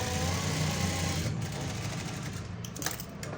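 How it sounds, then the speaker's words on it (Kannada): A sewing machine stitching the front strip of a plain blouse runs in a steady, fast mechanical whir that slows and breaks into uneven stitches near the end, close and loud. "ಫ್ರಂಟ್ ಪಟ್ಟಿ ಏನಿದೆ ಫ್ಲಾಟಾಗಿ ಈ ರೀತಿ ಎಳ್ಕೊಂಡು ನೋಡಿ ಇಲ್ಲಿ ಸ್ಟಿಚ್ ಹಾಕೊಳ್ಳಿ"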